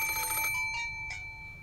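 A Samsung phone ringtone plays as someone hunts for the right tone, a bright electronic melody in short bursts that fade over a moment, with no talking.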